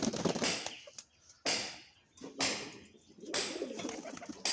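Pigeons kept at home coo in a few low, soft bursts with short pauses between, fairly close and alone, with a faint rustle or flutter in the gaps.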